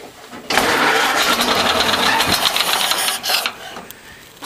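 Ford Model A pickup engine cranking and catching, then running with a rough, loud, uneven idle up close before briefly faltering and picking up again.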